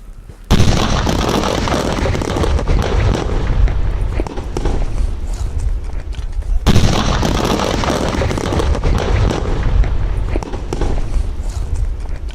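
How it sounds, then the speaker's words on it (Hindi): A deep, loud blast as seized illegal explosives are destroyed, followed by a long roaring rumble, then a second heavy explosion and more sustained roaring debris noise. "तेज धमाके के साथ ये विस्फोटक नष्ट किया गया"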